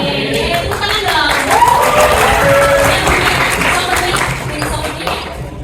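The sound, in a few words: audience applause in university hall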